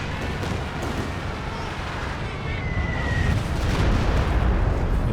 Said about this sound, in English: Duke dive bomb coming in